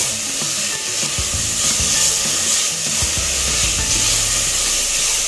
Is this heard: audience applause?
no